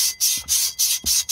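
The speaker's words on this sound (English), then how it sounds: "clean this drum up, and as per usual, quite simple, little bit of emery cloth" Emery cloth scrubbing rust off a rear brake drum from a British Leyland Austin Princess, a loud close rasping rub in three rhythmic back-and-forth strokes separated by short pauses.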